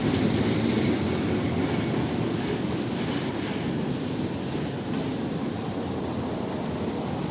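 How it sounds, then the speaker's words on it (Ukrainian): A Czech-built tram rolls past on rails in Lviv with a steady loud rumble and faint rhythmic wheel clatter, close and continuous throughout. "Ще один трамвайчик теж на восьмий номер,"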